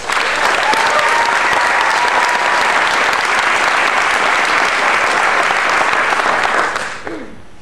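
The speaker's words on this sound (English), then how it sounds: "Let's have a big round of applause for Emily Rodgers." An audience applauds a speaker, Emily Rodgers, at an Ignite Ann Arbor talk event: dense, steady clapping from a full room that holds evenly for about seven seconds, then cuts off abruptly.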